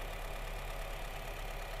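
A used three-row car's engine idles smoothly, a low, even, quiet hum that holds steady without variation. Nobody talks.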